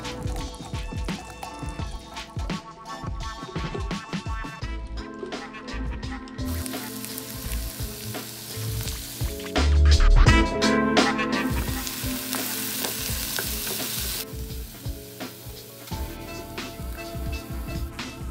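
Onions and mushrooms sautéing in melted Kerrygold butter in a pan, a dense crackling sizzle with frequent stirring and spatula scrapes, swelling louder midway, close by and without speech.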